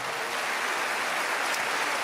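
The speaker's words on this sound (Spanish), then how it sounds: "alguien tiene que aplaudir más que eso" A church audience applauds steadily throughout, a dense even wash of clapping hands with no pauses and no voices over it.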